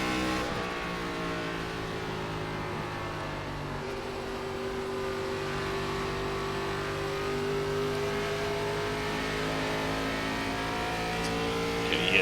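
ARCA race car engines droning in iRacing at Nashville Superspeedway, a sustained steady engine note with slowly shifting pitch as the pack runs together, loud and continuous without talk.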